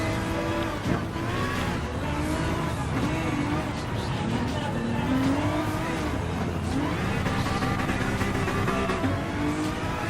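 A Honda NSX race car in Gran Turismo Sport roars steadily throughout, engine pitch rising and falling with gear changes on a dirt-style course, with a voice talking faintly over it.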